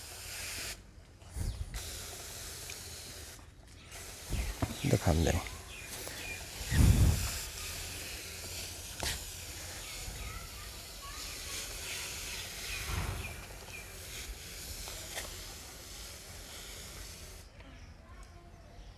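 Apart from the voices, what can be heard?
spraying a lemon plant against caterpillars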